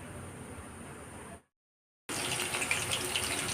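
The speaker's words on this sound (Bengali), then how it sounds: "আমি পরকে পর মাংসের পিসগুলো ছেড়ে দিলাম তেলে" Chicken pieces drop into hot oil for deep frying, giving a loud, steady hiss and sizzle that cuts out briefly, then returns at full strength.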